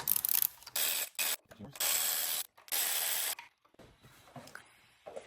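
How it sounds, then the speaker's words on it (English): Bolts and an installation tool being removed from a Porsche 911 engine at the rear main seal: bursts of close ratchet clicking and metallic scraping, separated by short pauses. "So we'll remove the bolts, take the tool off."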